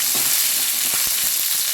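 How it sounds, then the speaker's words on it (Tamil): Onions and curry leaves sizzle and crackle steadily in a hot pan, with occasional stirring scrapes and pops close by. "இதெல்லாம் நல்லா வதக்கலாம்."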